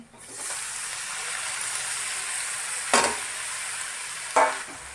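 Tomatoes and onions sauté in a pan with a soft, even sizzle, interrupted twice by a brief scrape or stir of a utensil.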